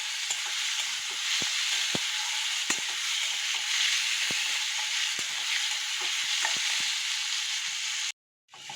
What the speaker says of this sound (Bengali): আলু পেঁয়াজটা ভাজা ভাজা হয়ে গেছে